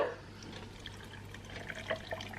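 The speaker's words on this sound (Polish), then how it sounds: "dolewam odrobinę wody" Water is poured into a blender over fruit such as grapefruit pieces, a faint, short trickle with small splashes and drips close by.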